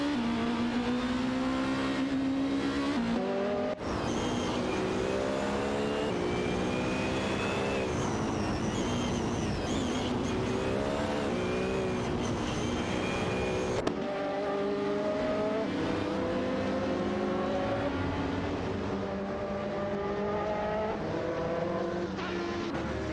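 Race car engines roar in a racing video game featuring a Cadillac DPi-V.R, a continuous loud whine that rises and falls through gear changes, with a short break in tone at two points and no voices.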